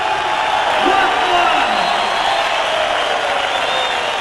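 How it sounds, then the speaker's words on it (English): A boxing arena crowd applauds and cheers for Hasim Rahman, a steady, roaring wall of clapping and shouts with no break. "A big round of applause, but then there's always a round of applause for the underdog"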